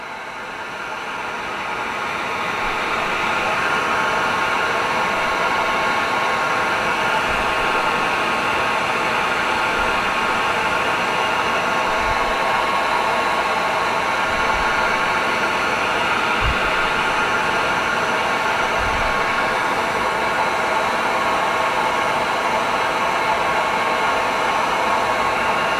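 A heat gun blows a steady, loud broadband hiss while heating a damaged car bumper, a constant roar with faint low thumps now and then.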